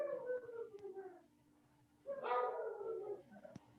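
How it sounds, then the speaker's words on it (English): A dog howls indoors in long, drawn-out wavering cries, first a falling howl, then a pause and a second rising howl, fairly faint and heard with no talk over it. "don't mind the dog"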